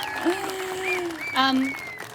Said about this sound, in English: I want to ask for a whale-sized cheer for Stephen Kesler, the artist who created this artwork.